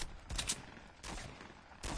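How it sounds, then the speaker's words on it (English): Gunfire from a shooting game on a PS4, heard as a few loud broadband bursts in quick succession with brief gaps between, with no talk over them. "All I hear is gunshots"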